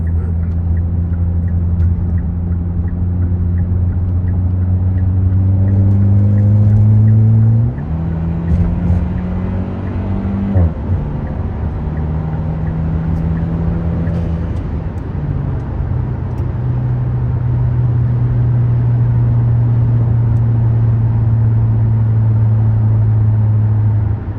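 A Hyundai Kona N Line with a 1.6T engine and a muffler-deleted exhaust gives a loud, droning hum, heard from inside the car, that rises under acceleration, shifts, then settles into a steady low cruise.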